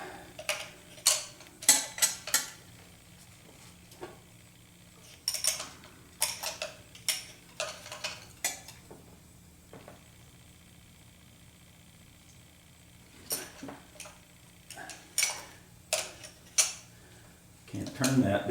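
A hand wrench ratchets in short clicking bursts as bolts come out on a 1976 Corvette restomod, close by, stopping and starting with quiet gaps between the runs.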